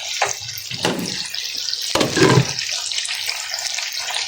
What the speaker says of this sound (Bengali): এগুলো আমি ধুয়ে নিতেছি পরিষ্কার করে